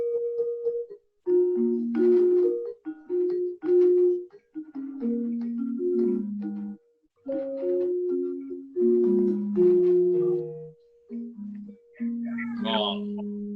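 Balinese or Javanese gamelan gender, a bronze-keyed metallophone, plays a gong bundet pattern: a continuous stream of mellow, ringing struck tones in a steady interlocking rhythm, near and fairly loud, with brief pauses between phrases.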